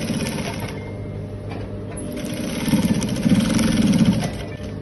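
Sewing machine stitching a senator placket, a steady mechanical whir that speeds into rapid rhythmic needle chatter midway, close and alone with no talking.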